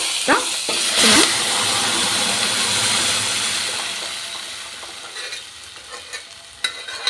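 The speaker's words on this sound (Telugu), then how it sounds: "ఇలా పప్పును కూడా ఇలా చక్కగా కలిసేలా ఇలా కలుపుకుందామండి" Moong dal is stirred into a tomato curry in a hot pan, a loud close hiss and sizzle with spoon scrapes that gradually quiets, then a few sharp knocks near the end.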